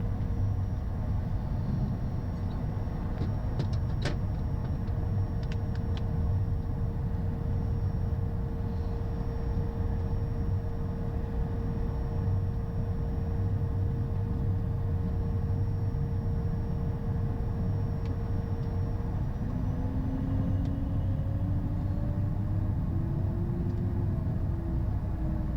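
A small aircraft taxis on an airport taxiway toward a runway, its engine giving a steady, loud droning rumble with a faint whine that slowly shifts pitch near the end, heard continuously with no speech.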